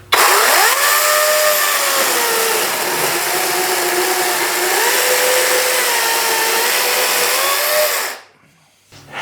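A Kobalt 24V battery chainsaw fitted with a new Oregon chain on a 12-inch bar runs close and loud, a high electric whine that rises quickly and wavers through the run, then winds down and stops.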